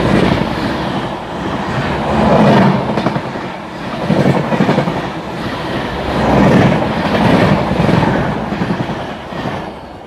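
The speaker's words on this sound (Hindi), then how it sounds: "लो जी, आ गई ट्रेन ओवरटेक मारने के लिए। शताब्दी एक्सप्रेस।" Shatabdi Express passes close by to overtake, a loud rolling rumble with rhythmic clickety-clack swells from wheels over rail joints, sustained across the whole passage.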